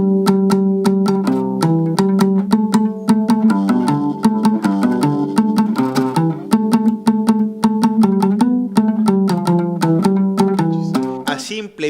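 A deep plucked bass guitar plays a steady, percussive strummed pattern of low notes, loud and close, without any voices.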